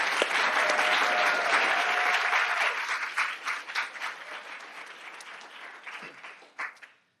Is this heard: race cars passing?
no